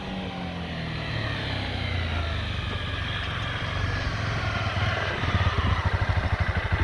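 Honda CB300R motorcycle ridden away, its engine a steady low drone with a pulsing exhaust beat that grows stronger near the end, heard alone without talk.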